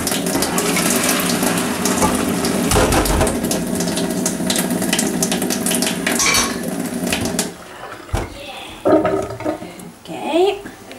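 Kitchen sink tap running steadily while potatoes are drained, water splashing loudly with clinking pots and dishes, then the flow stops and brief handling noises and a faint voice follow.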